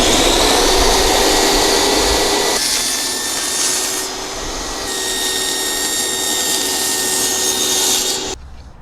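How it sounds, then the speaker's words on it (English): A saw cuts an OSB gusset for a gambrel greenhouse roof truss, with a loud, continuous whining rasp close by that shifts in pitch midway and then abruptly cuts off near the end. "Now I'm cutting what's called a gusset."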